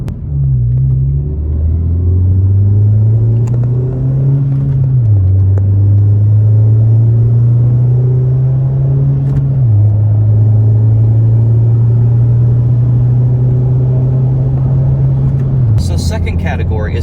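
A 2020 Honda Civic Si with a MAPerformance street exhaust pulls hard from inside the cabin, engine drone climbing through the gears with clear drops at each shift around 4,000 RPM, loud and steady.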